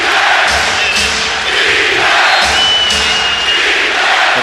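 Golden State Warriors fans roaring in a packed NBA arena during a 2007 first-round playoff game against Dallas, a loud, sustained crowd cheer filling the space with rising whoops and shouts.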